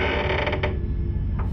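A door creaks open in a horror setting at a factory, a single drawn-out mechanical creak standing alone, fairly loud and close, with no talking.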